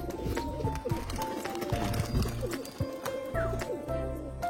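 Pigeons kept as performing flyers coo repeatedly in low throaty bursts amid other bird chirps and scattered clatter, close and fairly loud.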